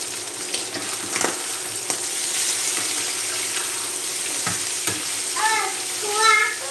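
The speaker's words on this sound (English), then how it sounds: "the goal is to keep the liver kind of moving inside the pan so that we don't overcook" Liver sizzles steadily in a hot frying pan as it is pushed around, with a few sharp scrapes and taps of the utensil against the pan and a brief watery hiss near the end; close and continuous, no talking.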